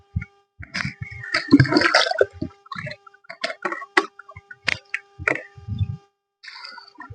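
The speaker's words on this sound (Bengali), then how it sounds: "এরপর কিন্তু আমি জল বাইব বালতি দিয়ে কিছুটা বাইয়ে নিই" Water is bailed with a bucket out of a small enclosed patch of water in a village, in irregular scoops and splashes with short pauses between them, fairly close and with no talking.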